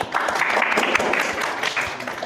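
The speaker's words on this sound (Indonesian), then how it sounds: "terima kasih kelompok 2, kita kasih aplaus" An audience applauds a presenting student group in a university lecture or certification session, with steady dense clapping lasting a couple of seconds at moderate loudness.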